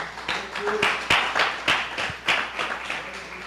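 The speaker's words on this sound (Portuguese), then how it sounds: "Você pode aplaudir ao Senhor com o seu melhor?" A church congregation claps with uneven, scattered hand claps over a low background murmur at moderate loudness.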